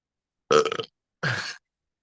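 Two short burps from one person on a stage, the first brief and throaty, the second a bit longer, close and clear with silence around them.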